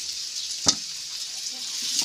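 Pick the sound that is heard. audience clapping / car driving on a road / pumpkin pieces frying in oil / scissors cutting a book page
pumpkin pieces frying in oil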